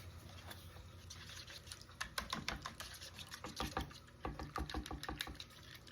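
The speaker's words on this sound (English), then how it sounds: "So we got our eggs cracked. Let's go ahead and give them a whisk." Cracked eggs, about four or five, whisked in a bowl with a plastic whisk: quick, rhythmic, soft tapping strokes, close and fairly quiet, speeding into bursts with no talk.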